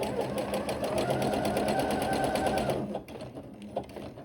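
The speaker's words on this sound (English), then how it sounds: "I keep the edges aligned and sew to the end without moving my fingers." A sewing machine stitches elastic onto the waistband of an asymmetrical jersey skirt, running in a steady rapid whir for nearly three seconds before stopping, followed by faint handling noise.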